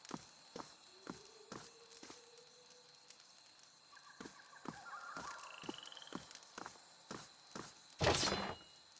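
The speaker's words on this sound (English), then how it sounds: "I hear footsteps." Footsteps in the fantasy role-playing video game Pillars of Eternity fall in a steady, soft rhythm beneath faint ambient tones, ending with a brief louder rustling burst.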